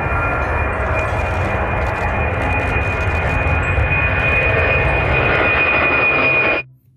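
A toy airplane gives off a loud, steady electronic engine roar with a fixed high tone. It plays alone for almost seven seconds and then cuts off abruptly.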